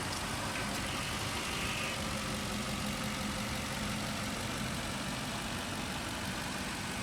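A 2003 Lexus LS430 engine with about 350,000 miles idles close by in a smooth, steady, even hum with a faint higher whir, unbroken and without talking throughout.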